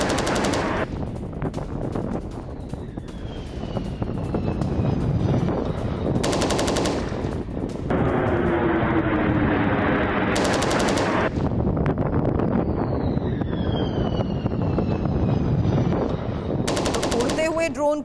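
Rapid machine-gun-like bursts of fire from a Ukrainian drone shooting down a Russian drone in mid-air, dense crackling volleys running throughout with brief harsh bursts, loud and close, with no speech.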